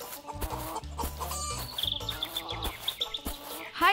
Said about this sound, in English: Here comes the smartest hens of the jungle.